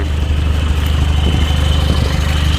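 A tractor's engine runs steadily and close by with a deep, even rumble while it is hitched to pull out a dump truck stuck in mud.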